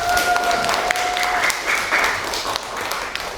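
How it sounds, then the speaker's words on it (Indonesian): Classroom of students claps together in a dense, steady round of applause lasting a few seconds, fairly close and loud, with a brief tonal beep at the start. "tepuk tangan untuk kita semua"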